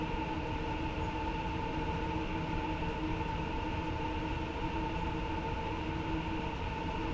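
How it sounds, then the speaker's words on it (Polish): A freight train loaded with cars rolls past in the Train Sim World 2 video game on the Spessart Rampe, a steady, dense rumble with sustained tonal hum, continuous and fairly close throughout, no talk. "przed nami kolejny pociąg towarowy, samochodami tym razem"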